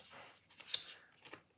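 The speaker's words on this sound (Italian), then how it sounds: "Volevo provare a fare una cosa con le forbici" Scissors cut open a FIFA World Cup sticker pack, making a few quiet, close snips and crinkling foil sounds within a second or two.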